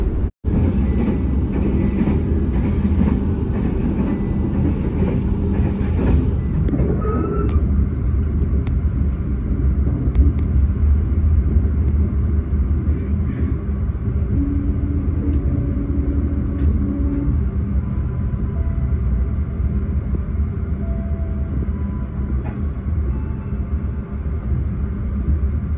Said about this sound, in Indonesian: suaranya itu di dalam kereta itu kayak kedap gitu